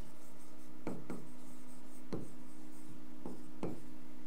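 Pen writing on paper, heard as a few short, faint scratchy strokes spaced irregularly over a quiet background, with no one talking.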